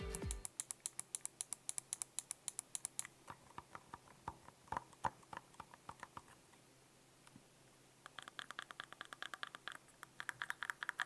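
Sharp plastic clicks from the buttons and D-pad of a NYXI Flexi wireless controller, close up and alone, coming in quick irregular bursts with a brief lull in the middle before a fast run of presses.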